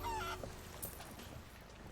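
Chickens in the pirate video game Sea of Thieves give a brief honking, clucking call at the start, then fade under a low steady ambient hum.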